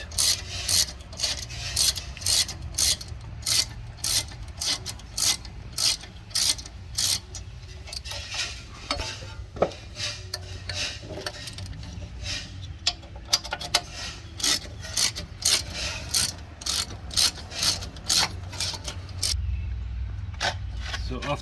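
A ratchet wrench loosens a rear brake caliper screw on a 2016 BMW X5, clicking in rapid, evenly spaced bursts up close, with a voice talking at times underneath.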